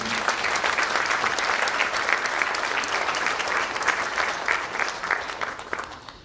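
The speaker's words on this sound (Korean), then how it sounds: "여러분들 박수 한번 쳐주시기 바랍니다" An audience at an awards ceremony gives sustained, dense applause, many hands clapping steadily at even loudness throughout before tapering slightly at the end.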